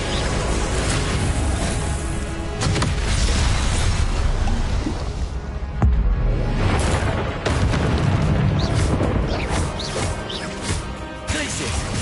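Repeated Confringo fire-spell blasts in the video game Hogwarts Legacy, loud booming explosions and crashing bursts overlapping densely with combat effects and music, with brief casting sounds between impacts.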